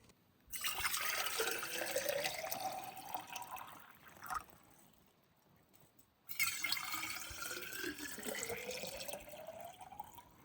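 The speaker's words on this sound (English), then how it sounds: "I'm gonna fill up both of these bottles with some water." Water pours from a tap into two bottles one after another, each fill a rushing stream whose pitch rises as the bottle fills, with a short quiet pause between them.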